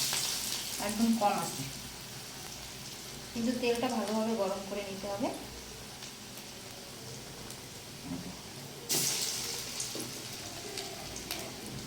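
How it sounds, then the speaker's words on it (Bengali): Cabbage and carrot pakoras frying in oil over low heat, a soft steady sizzle with a louder crackling burst near the end, while someone talks over it at intervals. "আর এটা অল্প আছে ভাজতে হবে বেশি জোরে জাল দেওয়া যাবে না তাহলে পুড়ে যাবে"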